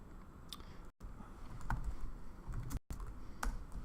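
Quick, close key clicks from typing headings in a Word document on a computer keyboard, a steady run of soft taps alone with no talking.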